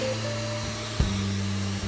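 A hair dryer on a cold setting blows steadily to set matte clay in a pompadour, producing an even, close whirring drone with a slight dip in pitch midway.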